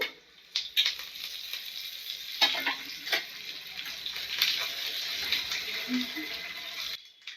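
Steady close sizzling of chana dal, seasoning seeds, a chopped dried red chili and curry leaves frying in hot oil for a coriander-tomato chutney, with brief louder crackles and faint background voices.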